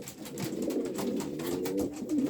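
Homing pigeons coo continuously and close by inside a loft, their low throaty calls overlapping in a steady, murmuring stream.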